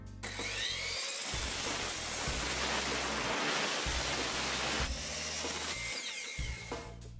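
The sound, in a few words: chop saw cutting an angled slice off a wooden board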